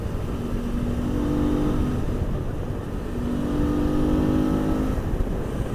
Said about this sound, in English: You just gotta love that V-twin sound